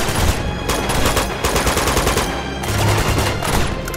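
AK rifle fire from the video game Uncharted 2, loud dense bursts of automatic gunfire running almost continuously, with sharp repeated shots layered over heavy low rumble.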